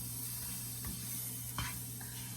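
Bread croutons toasting in about a tablespoon of butter in a pan give a faint, soft sizzle, with a few brief scraping stirs breaking in near the middle.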